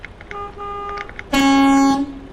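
Air horn on a Western Star 5700 XE truck in American Truck Simulator sounds after a few lighter chirps, one loud, close, bright blast that holds for under a second and then cuts off.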